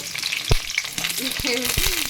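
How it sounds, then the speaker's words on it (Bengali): Pointed gourd (potol) pieces fry in hot mustard oil in a kadai, giving a steady close sizzle with a few sharp clacks of a spatula stirring them, no voices. "আমি পটলগুলো ভাজতে দিয়ে দিচ্ছি"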